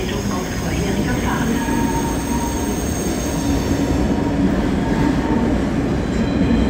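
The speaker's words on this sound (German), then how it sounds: "Der TRI hat Einfahrt in Köln." A TRI special train hauled by a BR 110 locomotive with a Wittenberger control car rolls into Köln Hauptbahnhof, a loud steady rumble of wheels on rails with high squealing tones and a brief clatter, heard close throughout.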